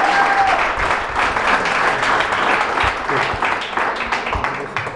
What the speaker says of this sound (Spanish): Otro aplauso, por favor, para Colombia.